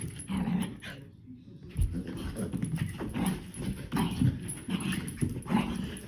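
Young puppy playing and growling: a series of low rumbling growls and scuffling bursts, with a short quiet gap and a soft voice faintly in the background.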